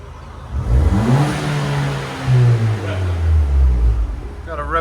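A Ford Fusion with a loud aftermarket exhaust and large resonator revs up close, its engine note climbing sharply, holding near the rev limiter, then dropping and rising again, with people talking over it.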